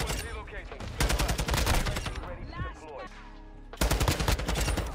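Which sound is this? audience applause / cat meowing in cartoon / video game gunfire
video game gunfire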